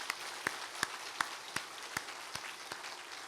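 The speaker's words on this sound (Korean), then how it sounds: "우리 격려의 박수 한번 합시다." A Korean Sunday worship congregation claps in encouragement with a steady, evenly spaced beat of sharp claps, moderately loud, with no talking over it.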